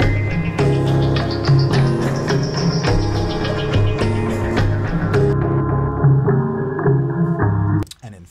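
Dense layered music soaked in echoing delay repeats that smear together, ending with a brief rising sweep and a quick cutoff.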